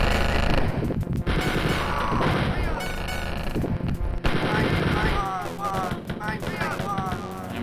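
Rapid gunfire from the Spear of Destiny shooter game, loud bursts of repeated shots running almost continuously with a short break, mixed with game effects and a voice talking over it.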